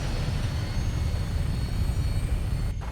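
Vertibird aircraft in Fallout 4 lifting off, a steady low rotor and engine rumble that holds loud and unbroken throughout, with no voices over it.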